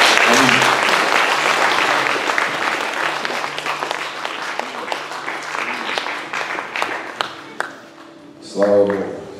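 A church congregation claps together during a worship service in Kryvyi Rih, a steady dense burst of applause that thins out toward the end, with some speech and a short sung or spoken phrase near the close.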